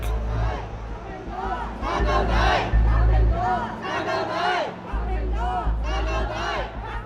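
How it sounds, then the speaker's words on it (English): A protest crowd gathers outside a police station in Mongkok, Hong Kong, its many voices shouting and cheering together in a loud, continuous roar that swells and dips, with a low rumble underneath throughout. "crowds starting to gather outside a police station in Mongkok"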